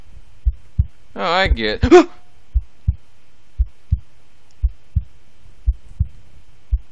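Heartbeat effect in the horror video game Which: low, evenly paced double thumps repeat steadily through the clip while a player briefly exclaims and speaks over them.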